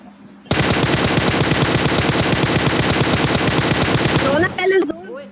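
Sustained automatic M4 rifle fire in a shooting video game, a dense rapid burst running about four seconds before cutting off, followed by brief quieter game sounds.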